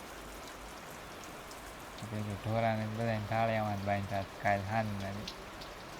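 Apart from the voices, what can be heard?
light rain falling in the courtyard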